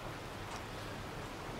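Steady rain falls in the vineyard-management game Hundred Days, Napa expansion, as an even, faint wash of patter that runs unbroken throughout.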